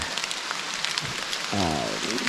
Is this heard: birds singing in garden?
no